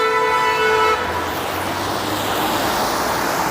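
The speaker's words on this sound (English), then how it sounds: "That's why I got honked at." A car horn blares a single sustained honk in downtown Toronto traffic, loud and close for about a second, then traffic noise and road hiss carry on.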